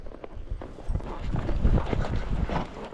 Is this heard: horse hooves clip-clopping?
yes